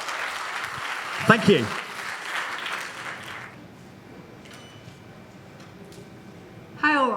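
Audience clapping at a brand product presentation in Germany, starting with a short burst of applause under a presenter's voice, thinning to scattered claps, then a brief spoken thank-you near the end.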